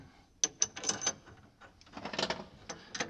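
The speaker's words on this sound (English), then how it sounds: "we'll tighten these up, put these bolts back in." Ratchet clicking in short bursts while bolts are tightened back onto the kernel processor of a John Deere 8700 forage harvester, with sharp close metallic ticks and several quicker runs of clicks.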